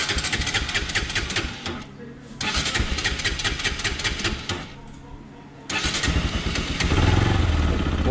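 Motorcycle engine cranks and catches after petrol is added, running in loud bursts that drop out twice before settling into a steady close-up idle.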